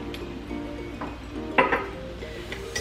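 Spoon clinking against a bowl while peanut butter and dark soy sauce are stirred together for a satay sauce, with a few sharp close taps and scrapes and no talk.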